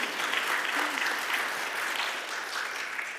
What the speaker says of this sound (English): We can give an applause.